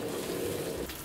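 A dry-aged steak deep fries in hot fat in a wok over high heat, giving a brief, loud, dense crackling sizzle heard up close.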